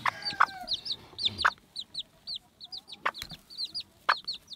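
Old English game bantam roosters and kikiriki birds cluck in repeated short, sharp bursts at close range, with a few louder squawks. No one speaks.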